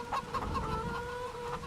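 A flock of chickens on a farm in a farming video game clucks steadily and close, many overlapping short calls pulsing in quick, uneven rhythm with no talking over them.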